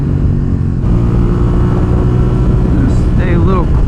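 An SV motorcycle engine drones loud and steady on a race track, with wind roar over the rider and the pitch rising and falling as the rider works the throttle and gears.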